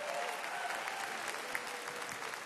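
Rally crowd in downtown Fort Wayne, Indiana claps steadily, a thick sustained burst of applause with scattered louder individual claps standing out.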